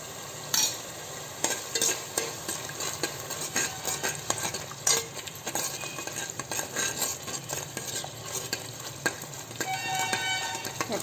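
Biryani paste frying in ghee while being stirred, a spoon scraping and clinking against the pot in irregular strokes over a continuous sizzle, close and fairly loud.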